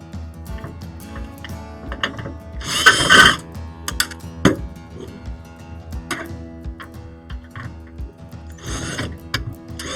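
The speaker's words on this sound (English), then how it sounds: "grab my screw gun, pull out the screws I see that are visible that will be stopping it" A handheld screw gun backs screws out during an electronics teardown, with short bursts of whirring spread across the passage, mixed with clicks and handling clatter of parts nearby, no voices.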